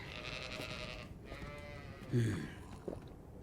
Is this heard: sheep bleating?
yes